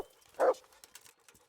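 A single short dog bark in the video game Kingdom Come: Deliverance, moderately loud against a quiet background with faint scattered noises.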